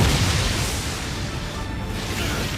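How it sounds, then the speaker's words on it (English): A big anime explosion in My Hero Academia, a loud sustained rumbling blast with a dense roar that fills the whole stretch, steady and close without any speech over it. "What's with that huge explosion in the back?"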